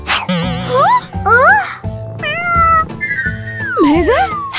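A cat meows in a cartoon, several stylized rising and falling meows in quick succession, loud and close, mixed with other playful vocal sounds.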